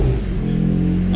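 A Toyota MR2 SW20 engine rumbles loudly and steadily, revving with a rough, uneven low drone close by, running rough with a check engine light on.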